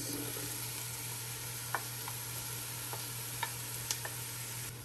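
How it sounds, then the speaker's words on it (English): Onion and garlic sauteing in a pan make a steady, soft sizzle throughout, with a few faint clicks and taps from stirring, and no talking. "I'm just sauteing the onion and garlic."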